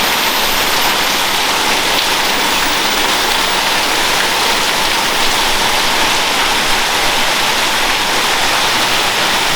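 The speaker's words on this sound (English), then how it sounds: "rain comes in there" Heavy rain pours off a roof in a loud, continuous hiss and splatter, water streaming down steadily close by, with no voices.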